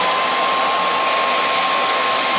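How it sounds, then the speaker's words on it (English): A hair dryer set on high blows with a steady, loud airy roar and a faint motor hum, running continuously up close. "turn on your hairdryer"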